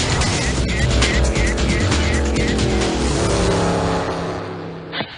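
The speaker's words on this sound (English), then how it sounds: "experience stock car racing from the driver's seat" Stock car roaring around the oval at Dover International Speedway, a loud, steady engine drone that fills the whole moment and dips briefly at the very end.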